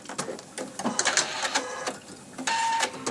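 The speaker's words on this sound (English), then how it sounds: "We're taking a 1/4 inch seam here to stitch these together." Domestic sewing machine stitching a quarter-inch seam through two pieces of quilting fabric placed right sides together, a close, steady mechanical whir that surges and eases in short bursts.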